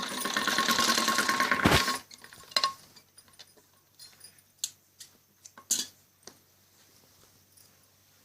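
A sewing machine stitches the back neck of a kameez, lifted at the corners: a dense, close burst of rapid stitching for about two seconds, then scattered clicks and knocks of handling.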